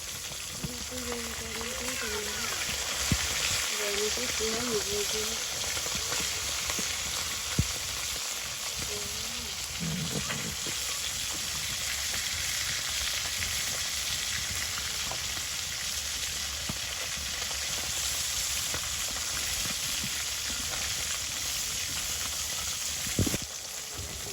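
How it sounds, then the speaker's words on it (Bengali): Carp fish frying in a wok in a village kitchen, a steady hiss of oil running throughout with a few clinks and short scraping stirs. "তো মাছগুলো ভাজা হয়ে গেছে মোটামুটি লেভেলে, তো এখন আমি কড়াই থেকে নিয়ে নিতেছি।"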